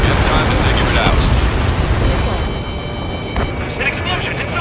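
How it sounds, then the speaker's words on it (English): A large explosion inside a structure in the combat flight game Ace Combat 7, a loud, dense, sustained rumbling roar that fills the whole moment, with a brief sharp crack near the end and faint tonal game sounds above. "An explosion inside!"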